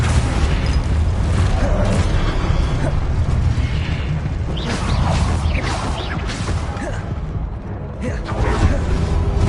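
Spell blasts in the game Hogwarts Legacy, heard as a dense, continuous stream of loud booms and crashing bursts, with a voice calling out underneath.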